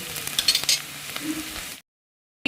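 Chopped onions fry in a pan for a chicken fry, a steady sizzle with a few stirring scrapes and clicks, cutting off abruptly into silence before a brief burst returns.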